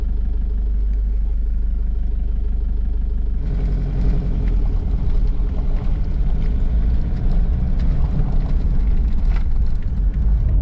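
A Mitsubishi Pajero driving along an unsealed outback road in South Australia, heard from inside as a steady engine drone and deep road rumble that grows rougher and louder partway through, with no talking.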